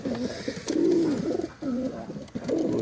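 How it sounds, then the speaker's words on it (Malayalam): Pigeons in a home loft coo in repeated low, throaty phrases, each rolling call fairly close and clear, with short pauses between bursts. "ഇതാണ് നമ്മൾ പ്രാവ് സെറ്റ് ചെയ്തിട്ടുള്ളത്."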